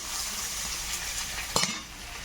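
Nigella seeds sizzle in hot oil in a pan as radish greens are being cooked, making a constant close hiss, with a brief clatter of a utensil against the pan near the end.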